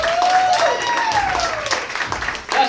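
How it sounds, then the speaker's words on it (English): Audience at a cabaret show in Sacramento applauds loudly in a sustained round of clapping, with a voice talking over the start and end. "Give her a round of applause"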